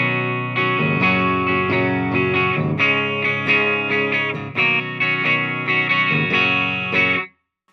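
Electric guitar chords ring out through a Fender tube amp, warm and slightly gritty, played close and steady before stopping abruptly.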